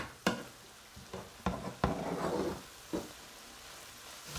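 Flour and fat cook together in a pan for a mushroom gravy. Soft scattered scrapes and taps of stirring sit over a faint low sizzle that swells briefly midway, quiet and close with no voices.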